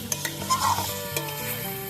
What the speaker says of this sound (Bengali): এবার চিকেনটা খুব ভালো করে কষিয়ে নেওয়া হবে